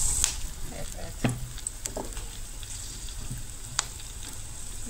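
Chillies frying in plenty of hot oil in a home kitchen, a steady close sizzle and crackle with a few sharp pops and stirring clicks, no talk.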